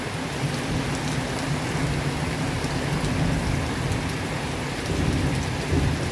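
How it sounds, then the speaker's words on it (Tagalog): Steady heavy rain hisses on surfaces throughout, with low rolling thunder rumbling underneath on a rainy day; the downpour is continuous and fairly close, with no talking. "Nakulog-kulog na."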